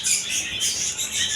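Several lovebirds in a bird shop chirp in a busy, continuous high twitter that swells in short waves, with no speech.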